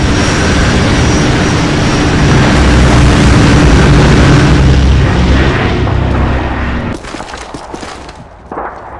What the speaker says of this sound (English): Emergency airdrop on the way!